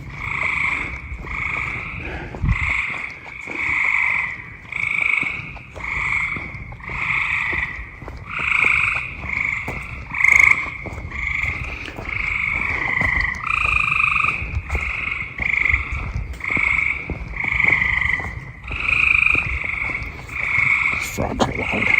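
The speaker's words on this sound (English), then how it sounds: "Frogs are loud." Frogs in the woods of the Erie National Wildlife Refuge croak loudly in a dense, pulsing chorus, repeated calls overlapping steadily with brief gaps between them.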